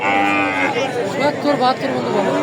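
Cattle at a district livestock market, including a Nepali Gir and a local breed, giving a loud close moo that carries through the whole stretch with wavering pitch, under faint crowd chatter.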